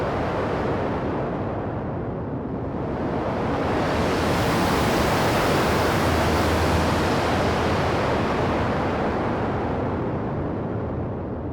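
Dense, roaring stereo noise swells in and out like a rocket blast, a steady synthesized whoosh that sweeps up and fades back over several seconds.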